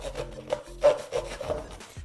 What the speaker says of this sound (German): Wir haben hier die Chipsdose und die müssen wir natürlich erstmal aufsägen.